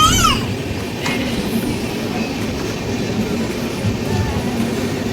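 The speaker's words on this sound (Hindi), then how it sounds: "ट्रेन अपने दूसरे स्टॉपेज मझोला पकड़िया रेलवे स्टेशन पे आ चुकी है" The Triveni Express pulls into Majhola Pakadiya railway station with a steady, loud rolling rumble of the cars, a brief high wheel squeal at the start and faint clatter throughout.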